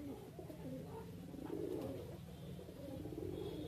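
Pigeons in a cage beside a tree coo softly and repeatedly, several birds overlapping in a faint, steady murmur of low rolling calls.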